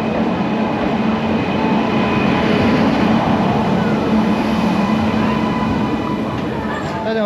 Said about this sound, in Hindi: अरे वो तो ट्रेन